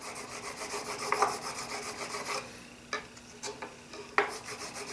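A steel blade bevel is rubbed back and forth on a DMT diamond stone, giving repeated close, gritty rasping strokes in a steady rhythm, then a few separate scrapes with short pauses between.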